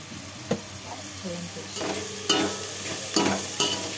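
Ginger paste sizzles in a pan for tomato rice, a close steady fry broken by the clicks and scrapes of a stirring spoon, with a voice faintly under it.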